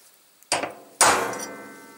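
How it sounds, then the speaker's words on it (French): A hammer taps a steel ball into its seat in the oil pump of a 1955 Panhard Dyna Z1 engine, two sharp metallic strikes about half a second apart, the second louder and ringing briefly. "je vais donner un petit coup de marteau comme il fait dans sa vidéo"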